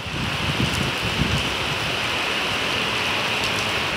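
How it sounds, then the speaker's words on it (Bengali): Steady rain falls outside a home balcony in the evening, a dense, even wash of patter on surfaces close by, continuous and fairly loud with no voices over it. "আপনারা একটু বৃষ্টির আওয়াজটা উপভোগ করেন, অনেকের নাকি বৃষ্টির আওয়াজ শুনতে অনেক ভালো লাগে।"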